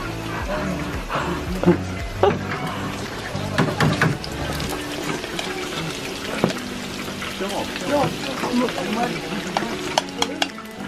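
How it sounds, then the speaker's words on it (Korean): Oil sizzles and crackles steadily as freshly caught fish deep-fries, with occasional stirring clinks and people talking over it. "지금 맛있게 튀기고 있어요"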